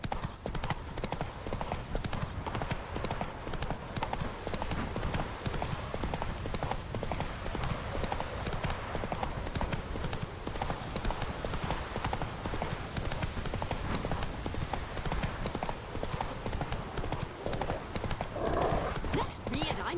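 Horse hooves galloping in The Witcher 3: Wild Hunt video game, a rapid continuous clip-clop running throughout with game ambience and voices talking over it.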